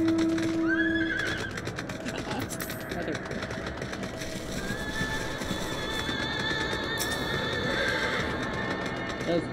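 A horse mount in the Final Fantasy video game lets out a clear whinny, then soft clip-clop hoofbeats continue under ambient game sound, with no one talking.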